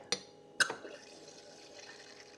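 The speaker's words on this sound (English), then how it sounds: "I just want to pour it out and show you what it looks like." Beer being poured into a not-quite-clean glass, with two sharp clinks near the start followed by a soft, steady liquid trickle and fizz, close by and fairly quiet, with no talk.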